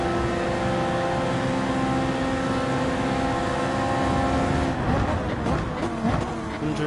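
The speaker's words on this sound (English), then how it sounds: "That's a BMW Z4" The engine of a BMW Z4 GT3 race car in Gran Turismo 7 at Spa, a loud sustained roar with steady harmonic whine, then shifting pitch and rumbling near the end.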